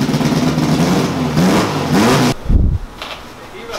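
A car engine revs hard in bursts close by, with a short dip and a lower rumble after, while people talk nearby.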